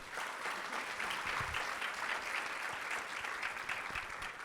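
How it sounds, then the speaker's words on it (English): Sustained audience applause at a film festival Q&A in New York, dense steady clapping from a crowd filling the whole stretch with no speech over it. "Please give them another round of applause"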